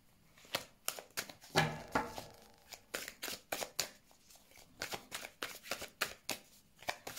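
Tarot cards are shuffled and dealt by hand on a table, with a run of crisp riffling flutters and sharp snapping slaps in an uneven rhythm, close and fairly quiet.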